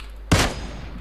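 A single loud gunshot from PUBG Mobile gameplay cracks sharply, then its noisy echo trails off under a steady background hum.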